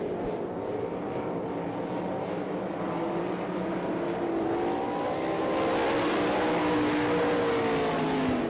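Sprint cars in an All Star Circuit of Champions race at Florence, Kentucky, roaring three wide through turn four, a loud dense engine wail that swells and rises in pitch as the pack passes close.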